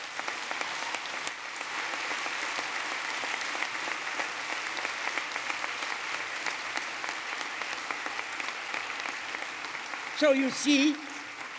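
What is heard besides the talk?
audience applause at ceremony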